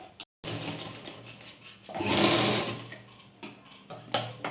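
A sewing machine stitching a sleeve joint on a garment, its needle running in close rapid bursts with short pauses and a louder sustained run in the middle.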